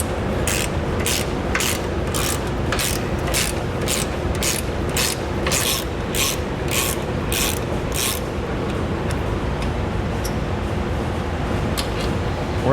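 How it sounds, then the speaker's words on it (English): A ratchet fitted with a 13mm socket turns out a tow hook bolt on a 2013 Jeep Grand Cherokee, giving a quick run of about a dozen close, crisp clicking strokes and then a few slower scattered clicks. "On each side, we're going to remove this bolt."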